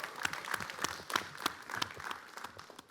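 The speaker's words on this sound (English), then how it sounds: "let's give her a big round of applause for making this happen tonight" Audience applause at the 4impact Challenge Spring 2025 event, a steady patter of many hands clapping at moderate distance, fairly soft and continuous for a few seconds.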